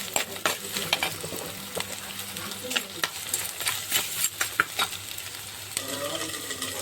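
Spices and salt frying lightly in oil for a Tamil-style ayila (mackerel) fish tamarind curry, with scraping stirs, soft sizzling and a few sharp utensil clicks in a nearby kitchen.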